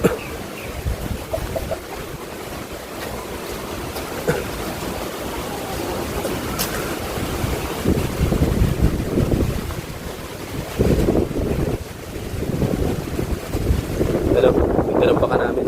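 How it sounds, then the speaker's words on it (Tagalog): Heavy ocean waves surge and crash amid gusting wind buffeting the microphone, with a boat's noise and occasional muffled voices in the mix. "Malaki pa ang alon."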